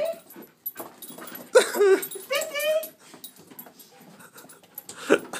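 A dog whimpers and whines in high, wavering yips and soft pants close by, with a person talking to it in the background.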